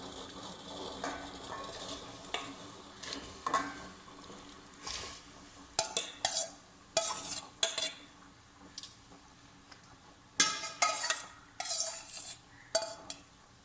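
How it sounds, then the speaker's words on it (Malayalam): A spoon stirs ada mix in a pan of jaggery syrup for ada pradhaman, producing intermittent scraping and clinking of metal against the pan, close and sparse, with soft sizzling underneath. "നമുക്ക് ശരിക്കും മിക്സ് ചെയ്ത് കൊടുക്കാം."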